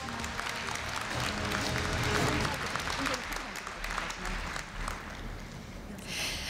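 Audience at a Korea University freshman entrance ceremony giving steady applause in a large hall, dense clapping sustained for several seconds before thinning out at the end.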